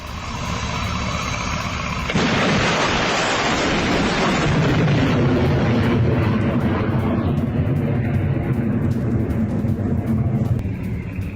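Ballistic missile strikes in a Syrian air attack: a sudden heavy, roaring blast surges in near the start and rumbles on loudly and continuously, slowly fading toward the end, with no voices.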